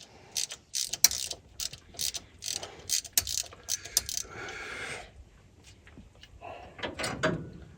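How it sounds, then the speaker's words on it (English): Hand ratchet clicking as the carburetor is loosened from its base on a Chevrolet C10 pickup: close, rapid bursts of metallic clicks in repeated short strokes, with a brief scraping pause in between. "we're going to start with the wrong thing to do first, which is loosen the carburetor from the base"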